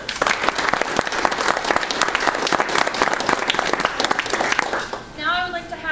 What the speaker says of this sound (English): Let's give a warm round of applause and thanks to our sponsors.